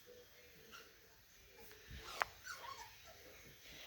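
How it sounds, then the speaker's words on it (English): Indoors near a crate, a dog lets out faint whimpers and a brief, sharp yip against a quiet room. "Oh, don't bark at them."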